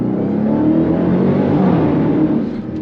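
Dodge Durango Hellcat SUV engine, a loud, steady deep roar held for about three seconds with a slight rise in revs and a drop-off near the end, no voices.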